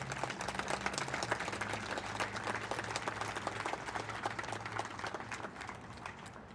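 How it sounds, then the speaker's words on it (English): An audience applauds at a 9/11 twentieth anniversary memorial program held by a fire department, a sustained, fairly distant wash of clapping with a low hum beneath that fades slightly toward the end. "Let's give them a round of applause."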